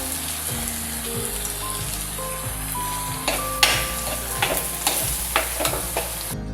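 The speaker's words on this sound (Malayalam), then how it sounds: "എല്ലാം ഒന്നിളക്കി കൊടുക്കുക." A jackfruit-flower thoran sizzles in a pan while it is stirred, with clattering spatula scrapes and a steady frying hiss heard up close, the stirring growing sharper and more frequent midway.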